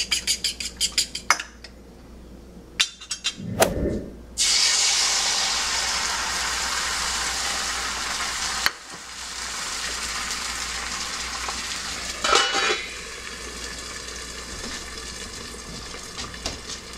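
Eggs cook in a cast iron pan: clattering utensils and scattered knocks come first, then a loud, continuous sizzle takes over and runs steadily to the end.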